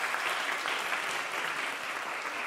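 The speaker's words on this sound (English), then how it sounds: "We give her a round of applause." Congregation at a university chapel service gives a round of applause, a soft, even wash of many hands clapping that sounds somewhat distant and continues without pause or voices.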